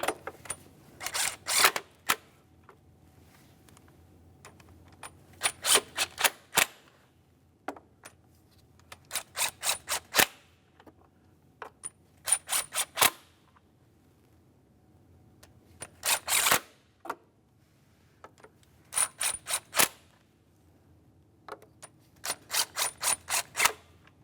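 Bursts of quick ratchet clicks come in repeated clusters with pauses between them as the mounting bolts on a VVT solenoid cover of a 3.6L V6 GMC Acadia are snugged down, sounding close and crisp against quiet surroundings.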